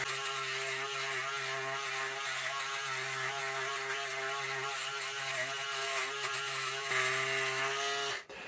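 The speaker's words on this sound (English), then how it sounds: "Now I'm going to try to flip the shaver over, and I'm going to try to shave going back up on my face" A Manscaped Handyman or Wahl Professional 5-Star electric shaver runs over a face, a steady close buzzing whir with slight shifts in pitch as it moves, then cuts off abruptly near the end.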